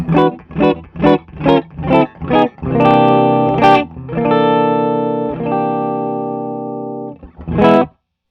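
An electric guitar through a Keeley Zoma overdrive pedal plays several short driven notes, then rings out long sustained chords before a final brief strum.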